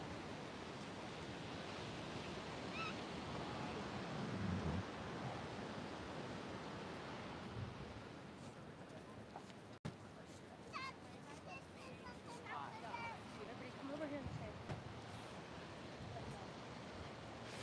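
Ocean surf washes steadily onto an oceanfront shore as a continuous broadband wash, with breeze noise mixed in and a few faint, indistinct voices in the later part.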